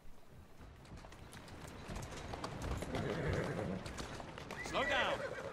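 Horse hooves clip-clop steadily at a walk in the video game Assassin's Creed Syndicate, with a neigh and whinny rising near the end, all under ongoing background game ambience and a voice talking.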